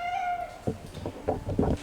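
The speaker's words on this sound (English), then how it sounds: "cat that seems to be living in our building here" A stray cat living in an apartment building in Istanbul meows several times in quick succession, close and clear over a steady background hum.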